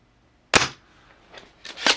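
An S&T M870 full-metal airsoft shotgun fires through a chronograph, a single sharp, close snap after a moment of silence. It is followed by softer clicks and clatter, likely the shotgun being pumped.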